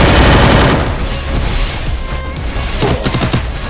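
Loud, dense gunfire from a shooting video game, a sustained barrage of rapid shots and booms filling the whole stretch and slightly easing toward the end.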